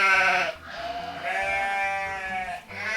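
Cartoon sheep in a Peppa Pig farm video game bleat in several drawn-out, wavering cries, loud and close, over a soft bouncy background tune.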